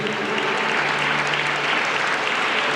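An audience at a choral festival applauds a children's choir, sustained dense clapping from many hands filling the hall evenly, with faint tonal traces beneath.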